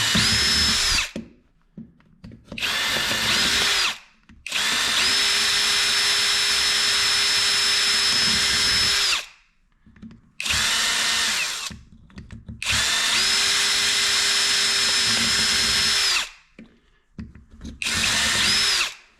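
A power drill with a 5.5 mm bit bores holes in a plastic power strip, whining loudly in several long bursts separated by short silences, the motor pitch rising and settling with each run.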